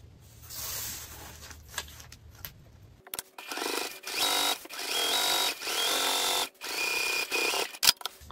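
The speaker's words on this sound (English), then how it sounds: "the next step is to take the top opening and top stitch it closed" A sewing machine top stitches the opening of a laptop bag pocket closed, starting after a quiet lead-in with several close, steady runs of whirring stitching separated by brief pauses.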